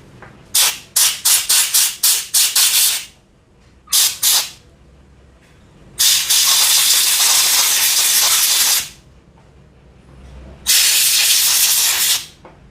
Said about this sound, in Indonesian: Nanti kita akan bersihkan semuanya ini ya, pakai kompresor. Kita akan semprot.